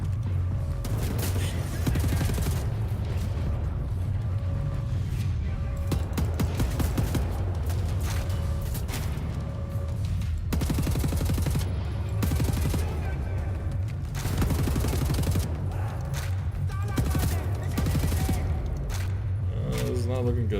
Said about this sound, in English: What is he shooting me with?